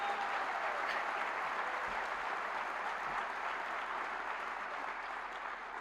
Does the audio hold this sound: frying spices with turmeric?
no